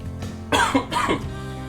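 A couple of harsh coughs up close, two short bursts in quick succession against a quiet background.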